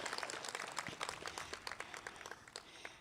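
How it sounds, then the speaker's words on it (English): Applause from a commencement ceremony audience honoring a graduate, a steady patter of many hands clapping at a moderate, somewhat distant level, with no talking over it. "Let's give her a round of applause."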